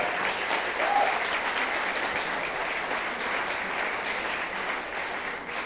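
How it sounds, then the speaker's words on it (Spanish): Warm, sustained welcoming applause from a church congregation in Querétaro, a continuous even roar of many clapping hands at moderate distance, with no speech over it. "les saludamos con un muy fuerte y caluroso aplauso queretano de"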